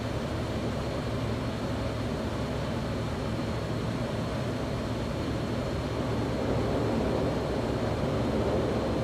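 An F-16 fighter jet in Microsoft Flight Simulator gives a steady, dense engine roar that fills the whole stretch at constant loudness, with no other sounds standing out.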